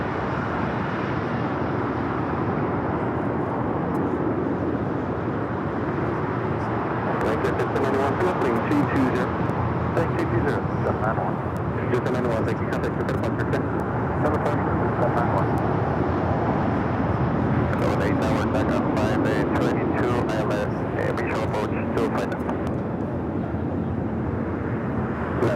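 Airliners taxi and fly at Los Angeles LAX airport, a steady broad roar of jet engines with faint crackling bursts, continuous under people talking.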